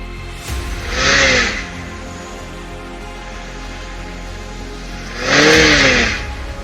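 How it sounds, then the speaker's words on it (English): A car engine revs twice, two loud rising bursts separated by a few seconds of steady idle rumble. "you can hear the engine revving up."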